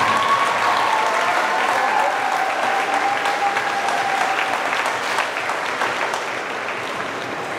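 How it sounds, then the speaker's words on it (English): Audience applause fills a stage hypnosis show at a Dreams Punta Cana resort, a dense, steady wash of clapping that stays loud throughout and eases slightly toward the end. "Give her a round of applause."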